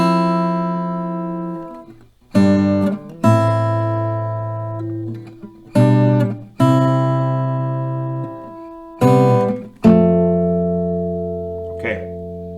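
Strummed acoustic guitar chords ring out one after another, each left to decay before the next, forming a slow progression.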